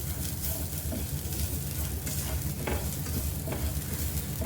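Coriander and coconut roasting in a pan for a Mangalorean chicken curry, giving a steady dry sizzle with soft scraping and stirring strokes throughout, close and continuous with no voices.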